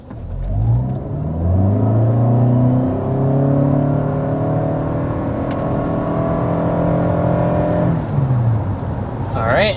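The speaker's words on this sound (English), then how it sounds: "we want to go ahead and start with a hard acceleration" A front-wheel-drive 2025 Toyota Camry XSE accelerating hard, its engine note climbing through several rising gear sweeps over nearly ten seconds, loud and steady from inside the car.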